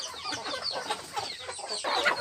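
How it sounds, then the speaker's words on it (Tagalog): Hungry farm chickens clucking in a busy, overlapping chorus of short calls, close by and fairly loud, with no talk. "So guys, dumating na tayo sa ating mga alagang manok."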